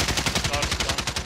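Rapid automatic gunfire in Call of Duty: Modern Warfare (Rebirth map), a loud, continuous stream of evenly spaced shots cracking about ten times a second.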